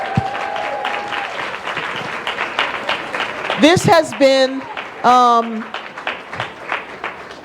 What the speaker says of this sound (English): You can continue to applaud